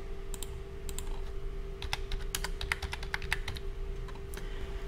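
Fingers type on a computer keyboard, a close run of quick, uneven key clicks in bursts over a steady low hum, with no talking.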